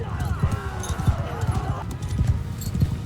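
Horses gallop into battle in Mount & Blade II: Bannerlord, a steady thudding of many hooves under game noise while someone talks over it.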